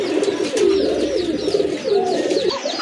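A pair of red khaki pigeons offered for sale coo continuously up close, their soft repeated rolling calls overlapping with light wing and chirp sounds.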